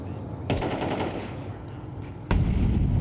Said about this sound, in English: Art sprays it at it and will retreat safely